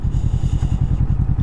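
Kawasaki Vulcan S motorcycle engine heard up close while riding, a loud steady low rumble with fast even pulses and some wind noise over it.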